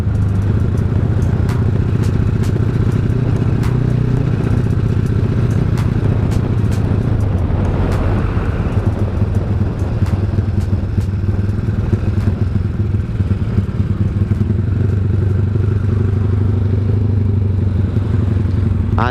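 A stripped-down motorcycle engine rumbles continuously while riding, a low throaty drone with rattly clatter and rising revs, close and loud throughout.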